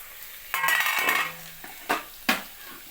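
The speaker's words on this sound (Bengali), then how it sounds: "ঢাকনাটা খুলে আবার একবার নাড়িয়ে নেব" A metal lid clatters off a pan of vegetarian pasta, followed by scraping and a couple of sharp knocks of a utensil stirring the vegetables in the pan.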